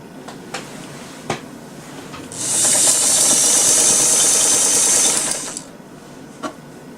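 A vintage Sears Kenmore Model 1120 sewing machine runs in one steady, fast burst for about three seconds, a loud even mechanical whir with light clicks before and after.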